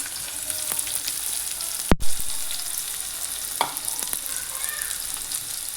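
Onion frying and being stirred in a pan for a Marathi-style cauliflower bhaji makes a dense, continuous sizzle, with one sharp clack of a spoon partway through and a few soft scrapes.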